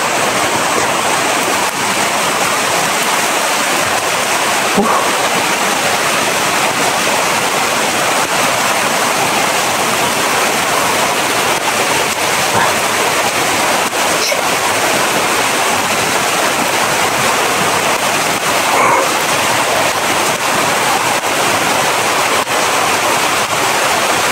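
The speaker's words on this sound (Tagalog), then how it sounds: "Ang problema nito ngayon, sobrang lakas ng ulan." Heavy rain pouring down steadily, a dense, loud, unbroken hiss that fills the whole stretch with no pauses.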